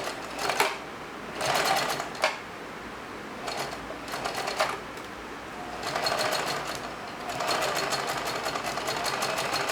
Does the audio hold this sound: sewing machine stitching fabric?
yes